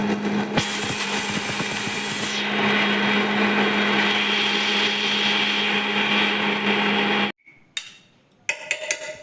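A mixer grinder whirs loudly and steadily as it grinds roasted green chillies with salt and tamarind, then cuts off, leaving a few short bursts and clatters of the jar.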